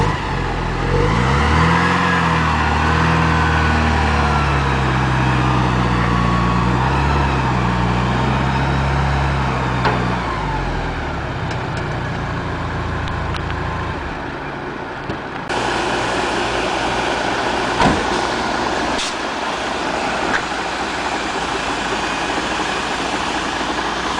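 A Porsche 944 engine rumbles and revs as the car is driven slowly up onto a tow truck, with shifting engine pitch early on, then quieter mechanical clanks and knocks later.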